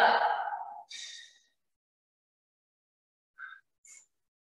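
A few audible breaths during a high-intensity interval training workout, a strong exhale at the start, then short, fainter breaths after a pause, close to the microphone.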